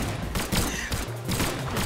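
Rapid, dense bursts of gunfire from weapons in the Brawlhalla fighting game, a close, continuous volley of overlapping shots over under two seconds.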